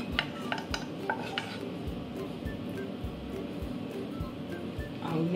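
A spoon stirs jute leaf into rice in a pot, giving a run of soft scraping strokes and faint metallic clinks at an uneven rhythm, close by with no talk.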